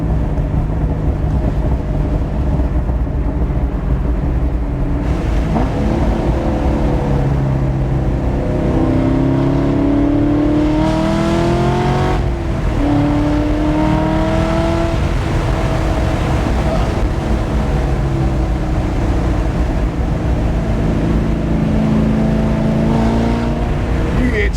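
A V8-swapped Mazda Miata ND making over 500 hp revs and pulls on a mountain road, its engine note rising and falling with gear changes beneath steady wind noise and intermittent talk from the occupants throughout.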